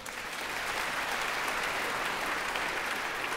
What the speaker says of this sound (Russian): Под ваши бурные аплодисменты брас-ансамбль покидает сцену